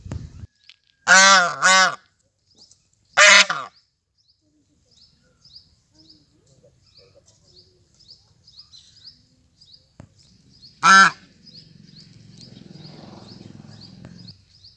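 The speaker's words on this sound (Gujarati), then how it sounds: "જીવદયા પ્રોજેક્ટમાં અહીં હંસનું પાલન પણ કરવામાં આવે છે।" Geese kept at a school give loud, nasal honks in short bursts, a pair close together, then a single honk and another later, with faint chirps and low background noise between.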